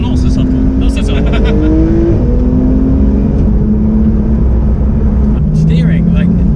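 A turbocharged car engine revs hard on the move, a loud droning roar with rising and falling pitch that sweeps up across gears, sustained throughout under a voice.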